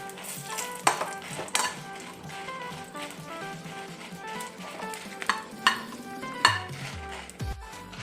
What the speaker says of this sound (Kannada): ಈಗ ಒಣಮೆಣಸು ಫ್ರೈ ಆಗ್ತಾ ಬಂತು